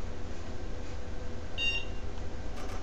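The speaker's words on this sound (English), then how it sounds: "I heard a beep" A single short electronic beep sounds briefly over a steady low engine rumble in a Metro North cab car in Train Simulator, with no speech.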